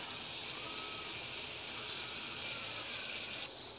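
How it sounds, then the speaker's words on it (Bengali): Chicken pieces fry in a spice paste in a pan for a Bengali morog polao, giving a steady, close sizzling hiss that holds evenly throughout with no talking. "মাংসগুলো দিয়ে নেড়ে চেড়ে একটু ভাজা ভাজা করে নিচ্ছি মশলার সাথে"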